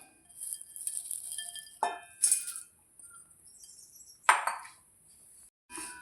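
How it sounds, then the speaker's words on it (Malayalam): Dried prawns roast in a clay pan on a stove while being stirred, giving scattered scrapes, clinks and brief rattling bursts between quiet gaps, close by with no speech. "ഇളക്കി വറുത്തെടുക്കാം."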